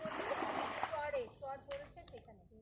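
Water is scooped up from a pond or bucket and splashes back in several quick, close, sloshing bursts, with people talking over it.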